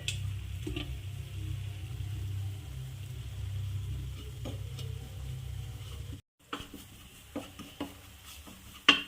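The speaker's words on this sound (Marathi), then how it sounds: "थोडं किंचितसं बेसन भाजून घेऊ याच्यामध्ये" Gram flour being roasted with oily masala in a pan for dum aloo: a low sizzling hum for several seconds, then a brief silence followed by scattered spoon clicks and scrapes against the pan.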